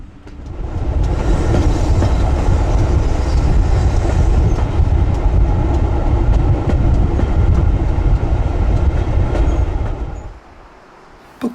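South Devon Railway preserved train running between Totnes Riverside and Buckfastleigh, a loud, close, continuous rumble with rhythmic wheel clatter. It fades sharply near the end to a quiet hush.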